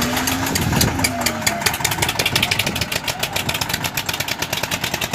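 Tractor engine running hard while pulling another tractor stuck in mud, with a John Deere and an Eicher involved, a loud close-up chugging throb that rises and pulses rhythmically as the load strains.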